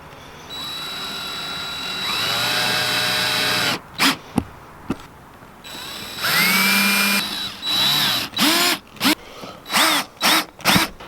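A power drill drives screws into a cell phone booster plate during an RV installation, with several whirring bursts that rise and fall in pitch, some long and some short, close and loud with pauses between.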